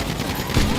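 Video game gunfire crackles in a quick burst of overlapping shots, loud and close, over a dense background of game noise.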